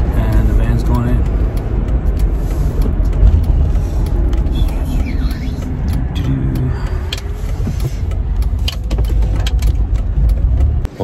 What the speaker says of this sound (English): the van's going in.